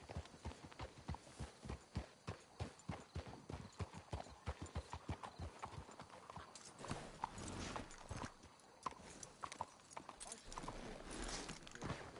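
Steady clip-clop of horse hooves walking on a hard surface in Red Dead Redemption 2, rhythmic and fairly close, with a faint whinny and low background rumble.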